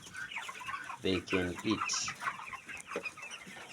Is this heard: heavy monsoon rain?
no